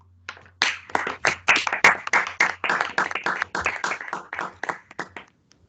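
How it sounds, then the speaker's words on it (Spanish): Steady, rhythmic hand clapping from the audience after a talk on upper bounds, a quick run of sharp claps lasting several seconds with no voices over it. "un aplauso a Guille"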